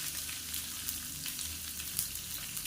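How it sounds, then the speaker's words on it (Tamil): Finely chopped shallots frying in hot oil with cumin, dried red chillies and curry leaves, a steady close sizzle and crackle with occasional sharper pops, no talking. "சின்ன வெங்காயம் நல்லா வதக்கணும்"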